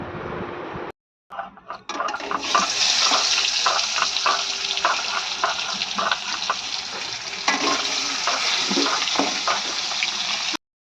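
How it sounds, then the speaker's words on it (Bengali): Steady loud sizzling of pomfret fish, rubbed with salt and turmeric, frying in hot oil, with occasional crackles and pops, close up after a brief silent gap at the start. "মাছটা এবার আমি ভেজে নেবো"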